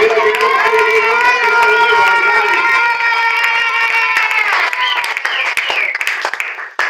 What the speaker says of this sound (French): nous acclamons très fort pour la gloire de Dieu